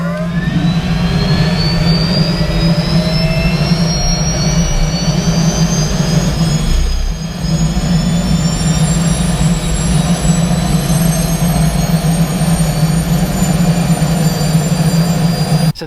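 A turbine-powered P-51 Mustang runs on the ground, its engine giving a loud, continuous jet roar with a strong low drone and rising high whine. A short dip occurs midway before the sound resumes at full strength, heard up close with no speech.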